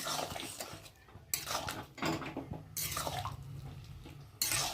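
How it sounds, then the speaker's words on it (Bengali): Potato, pointed gourd and soybean curry is stirred in a pan, with a spoon scraping and clinking against the metal in several bursts separated by short pauses, close and fairly quiet. "একটু ভালো করে নেড়ে নেব।"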